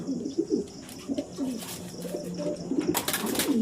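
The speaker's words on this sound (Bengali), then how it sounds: "পায়রাটার কোয়ালিটিটা একবার দেখে যাও।" A king pigeon cooing up close, repeated low throaty coos in a steady rhythm over faint background noise, with a brief higher rustle near the end.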